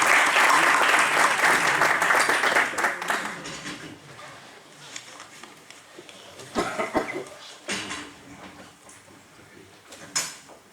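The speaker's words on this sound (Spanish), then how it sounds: "recibámosles con un aplauso" A lecture hall audience claps to welcome a speaker to a history talk, loud dense applause at first that thins out and fades into scattered claps, shuffling and a cough.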